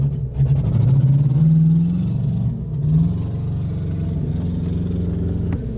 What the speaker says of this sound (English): Leon is now driving away in the Jeep.